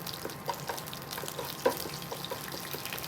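Curry leaves and mustard seeds fry in hot oil for a samosa keema masala, giving a steady, soft sizzle with a few small pops and one sharper crackle midway, with no talking.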